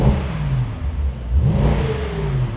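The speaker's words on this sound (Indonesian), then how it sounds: "Mode berkendaranya itu ada, nah ini kalau sport ini suaranya jadi tambah nih" Mercedes-Maybach SL 680 engine revving in sport driving mode, a deep mid-pitched rumble that rises and falls in two surges, close and steady, with no talking over it.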